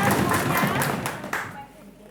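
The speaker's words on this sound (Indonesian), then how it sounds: "Tepuk tangan buat mereka semua." Audience clapping for contestants at a school quiz competition, a dense burst of applause lasting under two seconds and fading out toward the end, with some voices mixed in.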